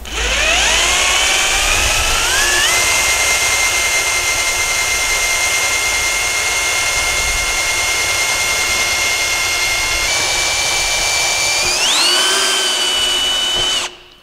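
A cheap cordless power screwdriver or drill from a budget tool test drives a 6 mm screw into material, its motor whining loud and steady for about fourteen seconds, pitch shifting as the screw seats, then winding down.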